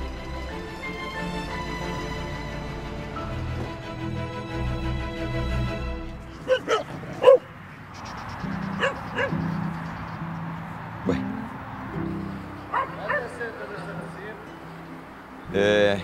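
An injured military working dog from an IDF canine unit whimpers and gives short yips and barks in bursts over a background of music and talking.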